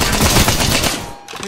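Rapid automatic gunfire from a first-person battle royale shooter, Apex Legends, with a burst of loud, closely spaced shots that stop abruptly near the end.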